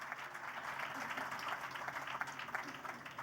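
Audience applause at a university induction ceremony, a faint, distant wash of many hands clapping, steady and even, recorded from afar at low level.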